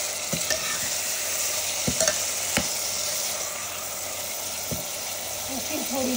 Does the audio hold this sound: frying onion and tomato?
yes